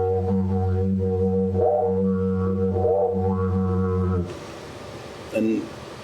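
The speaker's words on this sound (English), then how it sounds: "You get that basic droning sound." Didgeridoo drone from an Aboriginal Australian wind instrument, a steady deep buzzing hum with shifting overtone swells, played continuously for about four seconds before breaking off, then a brief low burst near the end.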